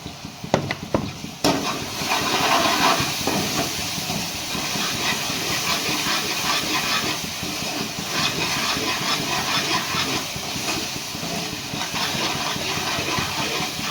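Spice masala with salt, turmeric and coriander powder frying in a pan, a steady loud sizzling hiss that starts after a few clinks and continues unbroken, close and alone.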